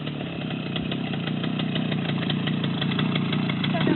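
Close, steady thrum of a Romet motorcycle engine with a rhythmic knocking pulse, swelling gradually louder as the throttle opens slightly while pulling away.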